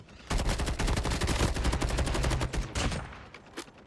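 Rapid automatic gunfire in the mobile shooter Call of Duty Mobile on the Alcatraz map, a dense loud burst of shots for about two and a half seconds, then a few scattered shots trailing off, no talk.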